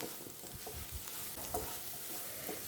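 Squid fries in a pan while curry leaves and coriander are stirred in, a soft steady sizzle with faint scraping stir strokes, quiet and close.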